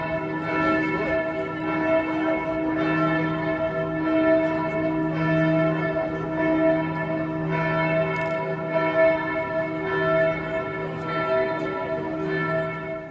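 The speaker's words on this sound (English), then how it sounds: "the bells were ringing for a very long time" Church bells of St Stephen's Cathedral in Vienna peal continuously, their overlapping ringing tones forming a steady, sustained wash with no pauses, fairly loud and unaccompanied by voices.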